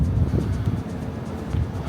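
Steady, gusty wind buffets the microphone on the chilly open upper deck of the Royal Caribbean cruise ship Navigator of the Seas, a continuous low rumble that swells and eases with no voices.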